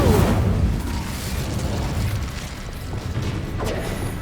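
Incendio fire spell cast in Hogwarts Legacy, a loud whooshing burst of flame with a crackling, booming roar at the onset that settles into a steady, noisy rumble for several seconds.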